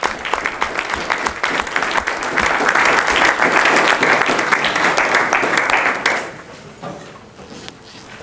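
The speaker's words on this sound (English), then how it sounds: "let's give a round of applause." School board meeting audience clapping for a staff member, scattered claps building into fuller, louder applause that holds for several seconds before thinning to a few sparse claps at the end.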